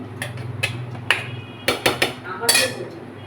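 A cooking pot of mutton on a low flame is covered with its lid, giving a few sharp metallic clinks and clanks spaced unevenly over a couple of seconds, close and fairly crisp.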